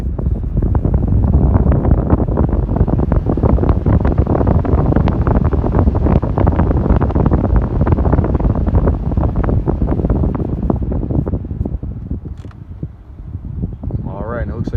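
Ford Expedition HVAC blower fan running at high speed after a resistor fix, a loud close steady whooshing roar with creaks and rattles that eases slightly near the end.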